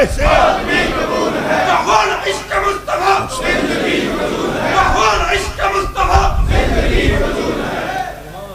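A large crowd at a religious gathering loudly chants a slogan in unison, roaring voices rising and falling in repeated waves that fill the space before fading at the end.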